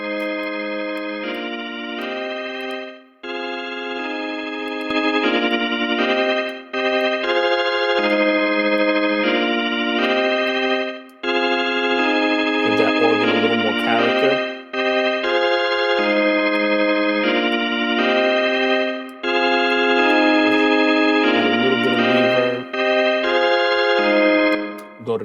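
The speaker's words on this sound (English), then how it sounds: "take a sound like this, I can play around with the LFO a little bit." Bright synthesizer keys from the Hensive 2 plugin play repeated chords in a steady pattern, their tone wobbling and shimmering with slow LFO modulation, loud and up front with no talking.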